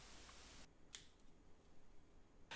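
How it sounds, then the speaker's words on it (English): A few quiet, sharp snips of scissors cutting figs, with a couple of crisp cuts and faint rustling between them in a hushed room. "Cut up your figs with scissors."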